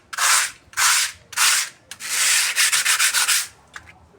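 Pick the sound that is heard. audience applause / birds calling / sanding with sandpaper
sanding with sandpaper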